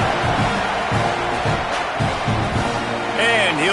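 Stadium crowd noise at kickoff of a Texas A&M Aggies football game against Missouri State, a broad steady roar with light cheering running under a commentator's voice throughout.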